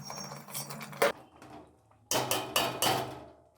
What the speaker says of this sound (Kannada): 1-2 ರಿಂದ 3 ನಿಮಿಷದವರೆಗೆ ಕದಡ್ತಾ ಇರಬೇಕು.